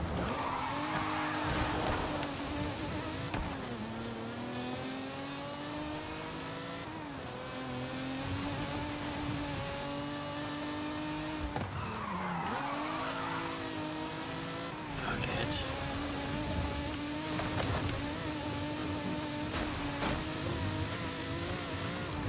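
A Lamborghini Diablo in Forza Horizon 5 screeching through repeated tire skids, engine pitch sweeping up and down under loud squealing as it slides through turns, with someone talking over it at times.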